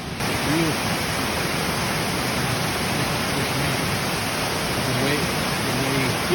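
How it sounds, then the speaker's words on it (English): A forceful waterfall at Vogel State Park in winter roars as a steady, loud, close broadband rush of falling water, continuous and unbroken throughout with no other sound rising above it. "It's amazing the amount of force that this waterfall has."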